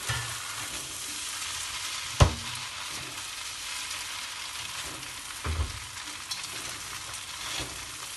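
Chicken laksa vermicelli frying in a wok gives a continuous moderate sizzle, broken by a few sharp clanks of a utensil against the metal as the noodles are stirred.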